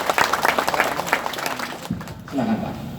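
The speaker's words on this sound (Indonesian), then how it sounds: "Beri tepuk tangan dulu." An audience gives applause at a regional government ceremony for mosque imams in North Bengkulu, steady clapping for about two seconds before it cuts off and a voice starts speaking.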